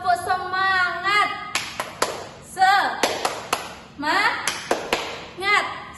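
A classroom group claps a rhythmic tepuk semangat ice breaker, with sharp patterned clapping in bursts mixed with voices chanting along.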